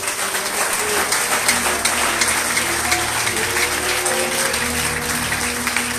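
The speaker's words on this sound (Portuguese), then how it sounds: "Aplauda, Senhor Jesus." A church congregation applauds in a dense, sustained wash of clapping that holds at a steady level throughout, with faint voices mixed in.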